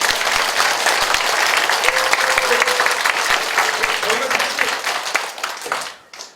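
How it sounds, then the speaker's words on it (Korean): Warm applause from a gathered audience at a redevelopment association meeting, dense clapping with scattered voices underneath, holding steady for several seconds before fading out quickly. "뜨거운 박수 한 번 더 부탁드립니다"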